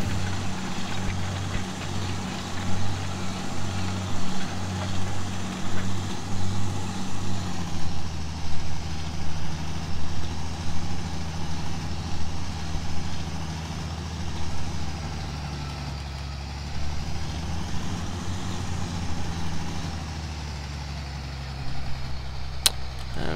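A tractor pulling a small cultivator in Farming Simulator 2013 hums with a steady, droning engine throughout. The load shifts partway through, then the engine settles to a lower, even idle-like tone.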